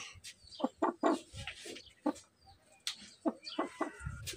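A fighting rooster clucks and calls in short, irregular bursts close by, with brief gaps between the sounds.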